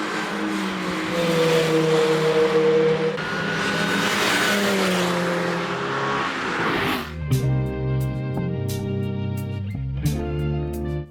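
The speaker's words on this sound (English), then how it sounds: "Nothing beats that supercharger whine." A Mini R53 on a Donington Park track day, its supercharger whining as a high, steady tone over the engine, followed by a more tonal engine note rising and dropping through gear changes, close and loud, with no talking.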